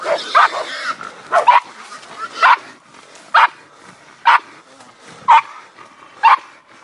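Hunting dogs bark during a hog hunt, with sharp single barks close by at a fairly regular pace of about one per second, over a quiet outdoor background.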